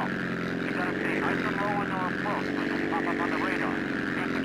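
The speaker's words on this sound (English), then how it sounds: "the plane is all loaded up and ready to go" A propeller plane's engine in GTA San Andreas Definitive Edition on Xbox Series X holds a steady, loud droning hum throughout, with someone talking over it.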